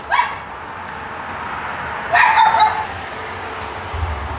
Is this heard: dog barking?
yes